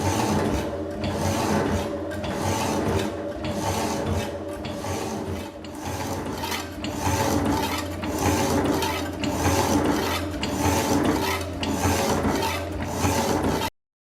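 A hydraulic power hacksaw cuts through metal stock in a workshop, its blade rasping in a steady back-and-forth stroke with a continuous grinding, ratcheting mechanical texture at a constant loud level, with no talking.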